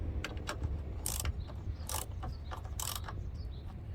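A hand ratchet clicks in several short, sharp bursts, tightening the rear brake caliper bolts on a Kia EV6 during a rear brake pad change, close up over a steady low background hum.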